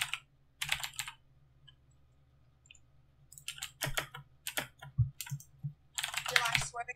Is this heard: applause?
no